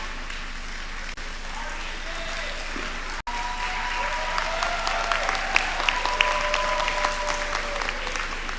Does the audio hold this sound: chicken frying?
no